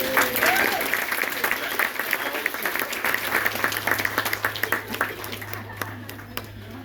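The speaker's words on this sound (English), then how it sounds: "give him a clap." Audience applause at a crocodile attack show at Hartley's Creek Crocodile Adventures, a steady crowd clapping that runs close and loud throughout, with voices mixed in beneath it.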